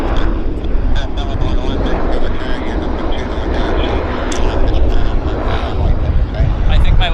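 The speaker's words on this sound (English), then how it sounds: "We've got a Q400 on approach." Q400 turboprop airliner on approach, a loud, steady roar of engines and propellers filling the whole stretch, with people talking faintly beneath it.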